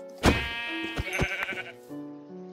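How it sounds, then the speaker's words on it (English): Sheep in the Minecraft video game bleat several times in a row, a series of clear, close, wavering calls with no talking over them. "Now let's get some sheep."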